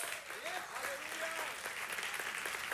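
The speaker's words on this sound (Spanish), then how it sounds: "dale un aplauso a Dios" Church congregation applauds God during a sermon, a dense wash of clapping with a voice speaking over it, moderately distant and continuous.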